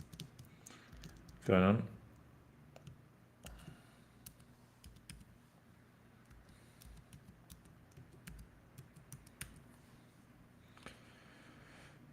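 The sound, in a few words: typing on computer keyboard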